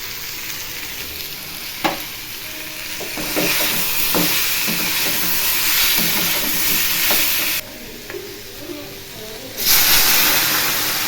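Food sizzling steadily in a home kitchen pan, with a constant frying hiss punctuated by clinks and stirring knocks, growing louder near the end.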